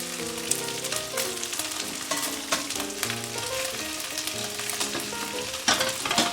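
Chicken browning in a pan with carrots and potatoes for soup gives a steady sizzle with light crackle, close and moderately quiet, with a brief scrape near the end.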